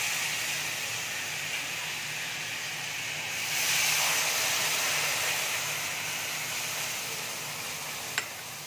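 Mustard paste sizzling in a hot pan of oil during frying, a steady, close, loud hiss that swells briefly and keeps going throughout, with a single small clink near the end.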